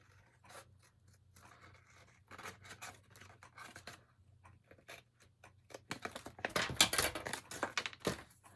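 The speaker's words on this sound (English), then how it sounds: "So I'm going to cut that into an arch shape." Paper being cut with scissors into an arch shape for an explosion box craft: soft, intermittent snips and rustling close by, growing louder and busier toward the end, with no talking.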